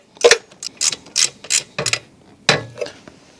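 A screw on a BMW 1250 GS Adventure kickstand being tightened with a ratchet: eight or so crisp, close clicking bursts in an uneven rhythm, loud and alone.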